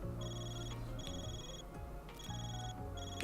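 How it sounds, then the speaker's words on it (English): A Xipha communicator rings in Trails through Daybreak, repeating electronic ringtone bursts in a steady on-off pattern over a low game music bed, with no voices. "And the cipher's ringing."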